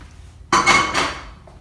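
Metal pot set down on the stovetop, a sudden loud clank followed by a second ringing metallic knock, close by with a short decay.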